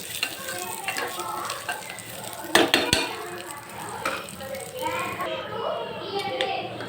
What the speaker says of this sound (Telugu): ఒక కప్పు పెసరపప్పు తీసుకున్నాం కదా ఇది కూడా బాగా వేయించుకోవాలి